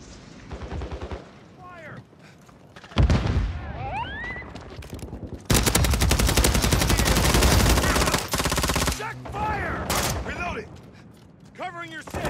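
Call of Duty gunfire in loud, sustained automatic bursts, broken by short gaps where whistling and chirping effects come through, with shouted voices nearby.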